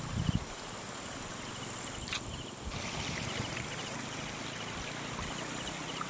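Clear river water flows steadily over rocks at Sungai Jinjim, a continuous broadband rush with faint insect chirps in the background and no voices.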